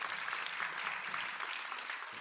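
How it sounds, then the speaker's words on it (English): Soft, dense applause from a conference audience for the panelists, an even wash of clapping heard from a distance at low volume. "May I ask for a hand of applause for our panelists?"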